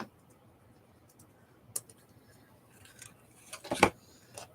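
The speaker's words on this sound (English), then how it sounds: "Oh, that's not cutting. Those scissors suck." Scissors snipping through paper while making a collage, a few faint clicks and one sharper cut near the end, quiet and close with little else around.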